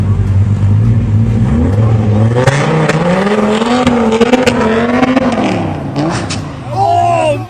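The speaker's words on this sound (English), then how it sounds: "A luxury car blips its engine to flaunt its power." A luxury car's engine revs hard and climbs in pitch, with tires losing traction during the surge. The loud, close roar swells and dips over several seconds, then fades at the end.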